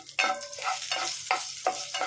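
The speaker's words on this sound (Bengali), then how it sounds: "দিয়ে আমি কাঁচা লঙ্কাটা ভালো করে ভেজে নিচ্ছি।" Green chillies frying in hot oil with nigella seeds, sizzling steadily with several sharp bursts of crackle as they are stirred, close and fairly loud, no voices.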